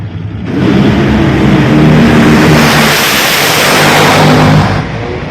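NHRA drag racing cars, a Toyota against a Mustang, roar down the strip at Richmond, Virginia in one loud sustained blast that swells, holds steady for several seconds, then cuts off abruptly.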